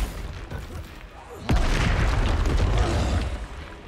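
A spell explosion in Hogwarts Legacy bursts suddenly midway as a deep booming blast with a rumbling tail, after a quieter stretch with a voice speaking.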